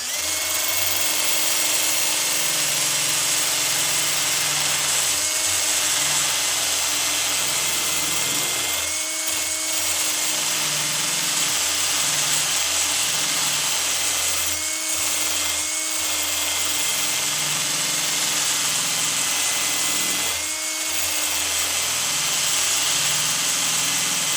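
A power tool grinds at slow speed to sharpen a Harbor Freight axe for spoon carving, a loud, continuous high whine close up with a few short dips where the blade is lifted, no talking.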